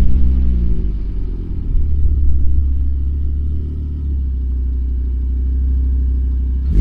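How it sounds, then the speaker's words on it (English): A Volvo C30 exhaust with a Magnaflow catback muffler rumbles at a steady, deep idle, a low throaty drone held close and loud throughout with a slight swell midway. "I also have a Magnaflow catback muffler system set up in the back here."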